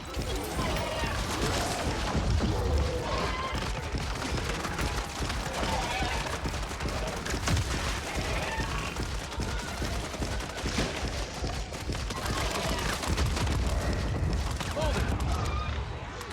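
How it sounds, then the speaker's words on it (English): Rapid, dense gunfire from a zombies-mode shooter game rattles continuously and loud throughout, layered with other game noise. "Firing into him as much as I can."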